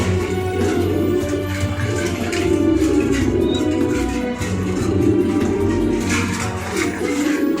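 Pigeons coo in a loft, a continuous low murmur of overlapping coos from several birds nearby, steady and fairly loud with no talking.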